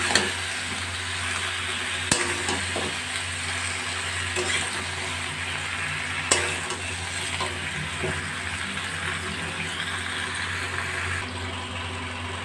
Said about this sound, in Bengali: নাড়াচাড়া করে দিলাম।